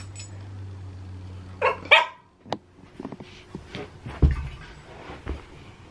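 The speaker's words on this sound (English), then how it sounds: "he always barks because he's so nosy." A dog barks indoors, a couple of sharp close barks followed by quieter yips, scuffles and knocks, with no talking.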